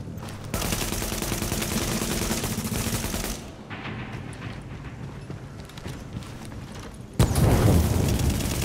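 Sustained gunfire and bursting containers in The Division, loud and dense, with a quieter lull in the middle before a sharp, heavy blast near the end.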